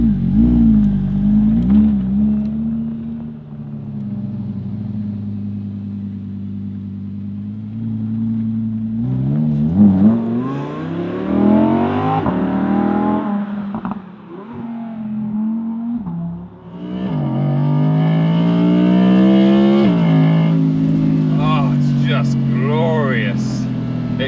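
A 2022 Audi R8 RWD Performance Coupé drives on the road, its engine droning steadily and then revving hard through rising gear sweeps, loud and close throughout.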